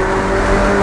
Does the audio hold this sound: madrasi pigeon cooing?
no